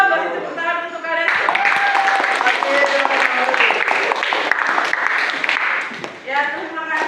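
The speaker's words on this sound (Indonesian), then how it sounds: "Kalau gitu, beri tepuk tangan untuk kalian." Classroom children clap together for several seconds, a busy burst of many small hands that begins abruptly after a teacher's voice and fades as speech resumes at the end.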